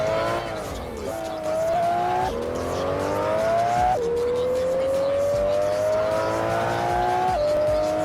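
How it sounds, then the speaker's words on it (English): A Lexus LFA V10 engine in a Roblox video game screams up through repeated gear shifts, pitch climbing then dropping at each change, loud and sustained. "Lexus LFA, which is supposed to be one of the best sounding cars"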